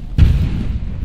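A single heavy boom from a Panzerfaust shot destroying a tank in the World War II shooter Hell Let Loose, a sudden loud low blast that rumbles briefly before fading.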